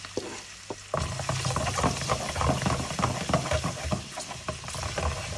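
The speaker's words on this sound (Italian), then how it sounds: "e le facciamo sciogliere nell'olio, schiacciando anche i capperi" Anchovies, capers and finely chopped olives fry in oil in a pan over a low flame, giving a steady close crackling sizzle with scattered pops and stirring scrapes.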